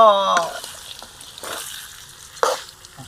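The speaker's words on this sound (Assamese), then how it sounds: "পুৰা ভাজি আছোঁ দেই হাঁহ মাংস।" Duck meat sizzling and frying in a pan over low heat, a steady crackling hiss with brief louder bursts as it is stirred, with a voice at the very start.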